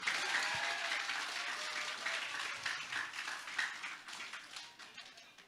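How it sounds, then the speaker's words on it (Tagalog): Crowd applause at a political rally, a dense burst of many hands clapping that stays strong and slowly thins toward the end, with no talk over it. "Kaya isang palakpak o isang bagsak para kay Mike Defensor."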